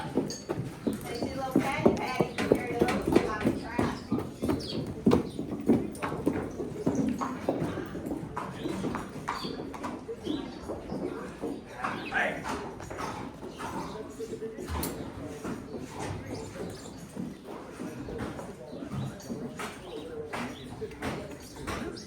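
Horses moving through a busy barn with colts, hooves clopping irregularly amid steady shuffling and rustling, with people talking over much of it and faint bird cooing in the background.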